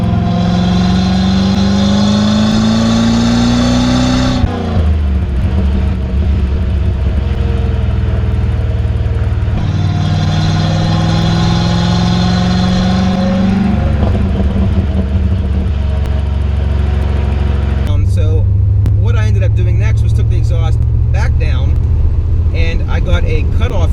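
A C4 Corvette V8 idles with a deep, low exhaust rumble, holding steady for a stretch and then revving briefly, recorded close while a person talks over it.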